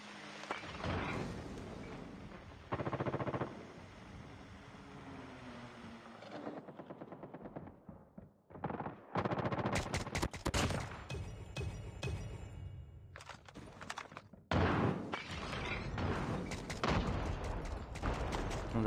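SKS rifle gunfire in the multiplayer mode of the video game Call of Duty, with rapid bursts of shots mixed with other weapon fire and game effects, loud and close, with short pauses between bursts.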